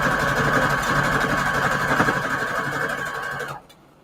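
A sewing machine running a zigzag stitch along fabric ruffles: a steady, close mechanical hum and whir with rapid rhythmic needle ticking that stops abruptly near the end.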